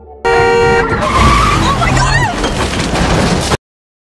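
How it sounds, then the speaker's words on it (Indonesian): A car colliding head-on with an RV on a road: a sustained horn blast gives way to a loud, continuous roar of crashing and skidding metal that lasts about three seconds, then cuts off abruptly. "Tiba-tiba saja mobil lain muncul dari arah berlawanan menabrak RV Jim."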